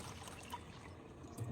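Dirty brown water trickles and dribbles from a soaked carpet, a soft, steady, faint wet patter with no one talking.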